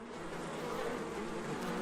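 A thick, steady buzzing of many honeybees swarming together at a hive, close and continuous without pause.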